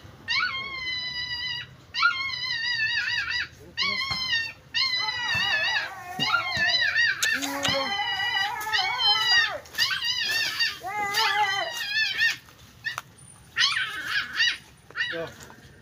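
A rescued puppy pulled from a drain whimpers and yelps in repeated high, wavering cries, loud and close, coming in short bursts with brief pauses between them.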